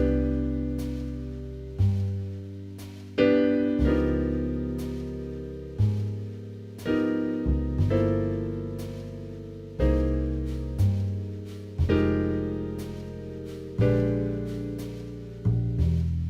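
Jazz piano comping on a ballad, with left-hand shell voicings and upper-structure triads: sustained chords struck roughly every two seconds, each swelling and fading, played close and alone.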